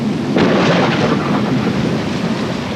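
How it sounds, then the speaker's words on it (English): Thunder rolls through a steady rainstorm, a loud low rumble swelling early and fading under constant hissing rain, with no voices. "The thunder thundered and the lightning flashed."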